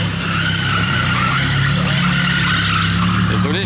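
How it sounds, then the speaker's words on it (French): Car tires squealing loudly on a street surface in Monaco, a continuous close screech with engine noise underneath, as a voice talks over it. "c'est pas très agréable d'entendre le bruit là, des pneus sur ce sol"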